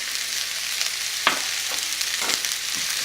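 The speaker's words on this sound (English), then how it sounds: "Keep stirring your onions to make sure that they don't stick to the bottom of the pan" Onions fry in a pan with turmeric and red chili powder for balti chicken curry, giving a continuous close sizzle broken by a few scraping stirs of a spoon.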